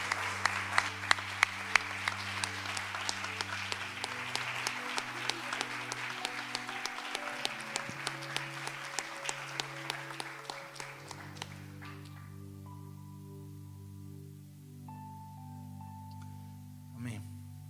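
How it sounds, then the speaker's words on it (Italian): Church audience in Verona applauding Sonia during a worship service, dense steady clapping for about ten seconds that thins out and fades, leaving sustained organ or keyboard tones underneath. "Facciamo un altro applauso a Sonia."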